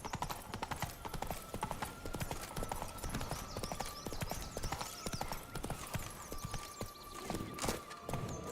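Roach, Geralt's horse in The Witcher 3: Wild Hunt, gallops with steady, rapid clip-clop hoofbeats throughout, close and fairly loud over a faint background tone.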